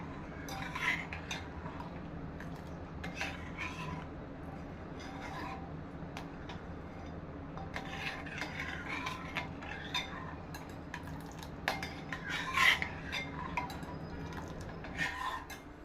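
Sugar being stirred into rice kheer in a pot, a spoon scraping and clinking against the metal in steady, soft rubbing strokes with occasional sharper clinks, close and moderately quiet, no talking.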